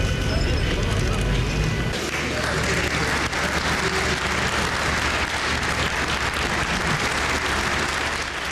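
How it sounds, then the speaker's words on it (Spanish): Sustained applause from a room of listeners greeting Greek Prime Minister Alexis Tsipras on his return, steady and dense throughout with a few voices mixed in. "Aplaudido su retorno"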